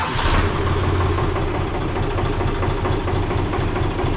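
A steady, low diesel engine of a 24-year-old SAME Greaves 353 tractor idles close by, a continuous rumbling drone with a faint rhythmic chug and no talking.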